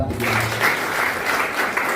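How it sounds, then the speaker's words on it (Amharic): A church congregation applauds during a sermon, with a short burst of steady group clapping that fills the space and a voice briefly heard at the start. "አጨብጭቡለት።"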